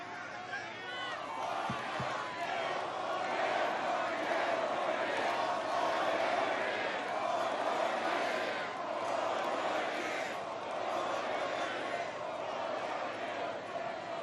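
A large crowd at a Donald Trump campaign rally in Manchester, New Hampshire, roars and cheers continuously, a broad steady wash of voices with chanting swells, loud and sustained, with a couple of sharp claps early on.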